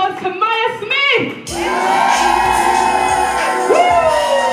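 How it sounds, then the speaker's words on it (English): Audience at a live hair-salon event applauding and cheering for Maya Smith, loud sustained clapping with whoops and shouts rising over a crowd, voices calling out near the start. "Please give a warm round of applause to Maya Smith!"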